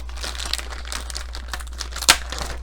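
Plastic packaging around a computer motherboard crinkles and rustles steadily as it is unwrapped, with a single sharper crackle near the end; close and moderately loud, no voices.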